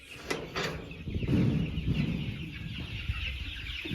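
Aseel cross Peruvidai chickens cluck softly in a cluster, with scattered low murmuring calls and occasional sharper notes over a steady background hiss.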